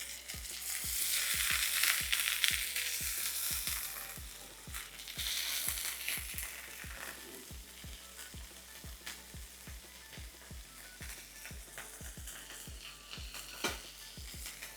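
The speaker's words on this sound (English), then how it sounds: "I'm gonna flip my burgers over. As you can see, we're getting that nice char on one side." Beef burgers stuffed with cheese sizzle steadily in a hot pan just after being flipped, a close crackling fry with faint scraping and a soft tapping pulse running underneath, without speech.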